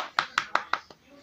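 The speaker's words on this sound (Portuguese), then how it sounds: "Os aplausos para Xero e Aya" Four sharp hand claps ring out close and evenly spaced, followed by a fainter fifth and a quiet fade, like a small, brief round of applause.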